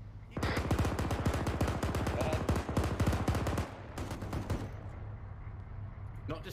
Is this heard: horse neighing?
no